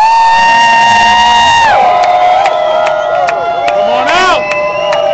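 A protest march crowd shouts and whoops up toward people in apartment buildings, the loud sustained cheering layered with high tonal whistling and sharp clicks.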